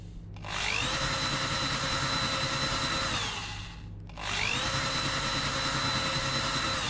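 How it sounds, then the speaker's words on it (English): A power drill whirs steadily in the video game Take On Mars, stops briefly, then starts up again, a loud mechanical whine with a rough grinding undertone. "now I'm gonna run the drill again once the beeping stops"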